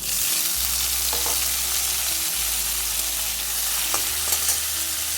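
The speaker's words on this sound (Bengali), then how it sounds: "আঁচটা মিডিয়ামে রেখে এই বেগুনটুকু একটু আমি ভেজে তুলে নেব" Small eggplant pieces rubbed with salt and turmeric fry in oil over medium heat, producing a loud, continuous sizzle over a steady low hum, with a couple of faint clicks.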